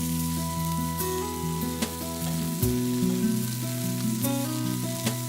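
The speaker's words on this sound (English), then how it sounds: "the sausages start to sizzle on the fireman's shovel" Sausages sizzle and crackle loudly on a fireman's shovel held over a campfire at night, with steady frying hiss, scattered pops and a low drone underneath.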